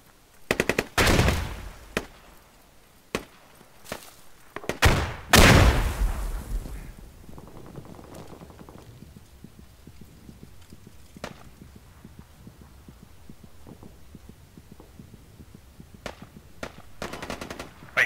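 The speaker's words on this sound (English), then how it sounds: "I hear enemy fire southeast," Enemy gunfire in the video game Squad on the Fool's Road map: loud close bursts of automatic fire and single shots early on, then scattered quieter distant shots and pops continuing throughout.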